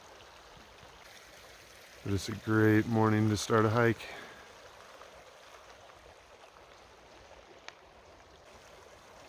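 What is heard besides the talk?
river flowing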